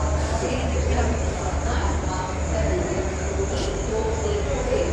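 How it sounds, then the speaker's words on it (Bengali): A Garib Rath all-AC passenger train bound for Puri stands at Kharagpur railway station platform at night during a five-minute halt, with a steady low rumble of idling carriages and station bustle, continuous and fairly loud, with people talking nearby. "খড়গপুরে ট্রেন দাঁড়িয়েছে, এখানে 5 মিনিট হল্ট দেবে"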